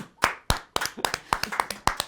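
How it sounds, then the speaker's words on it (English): A few people clap together during a gaming quiz show, with sharp, distinct handclaps in a quick, uneven rhythm, close and fairly quiet, with no talking over them. "Well, applause, please."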